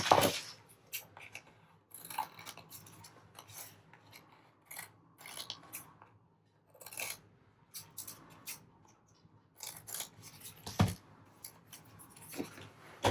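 Scissors trim a paper book page for a scrap bookmark in a quiet room, giving a series of short, crisp snips and slicing rasps spaced irregularly between pauses, close and fairly faint.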